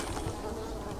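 Bees buzz in a dense, steady drone at a beehive in Dying Light 2, close and continuous throughout the brief moment.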